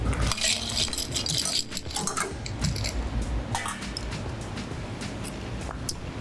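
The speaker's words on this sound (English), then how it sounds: "Fill your glass with some ice." Ice cubes tumble and rattle into a glass while a mixed drink is assembled, giving a burst of clinks and clatters followed by scattered lighter knocks, close and fairly loud.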